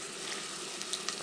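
Chopped green herbs, cilantro and garlic hitting hot oil with onion give a steady, close frying hiss. A few brief crackles pop over the top.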